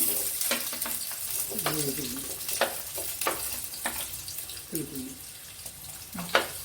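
Onion, ginger and garlic dropped into hot oil in a pan for a Kerala duck roast, crackling and sizzling with repeated clattering stirs and brief voice-like murmurs in the background.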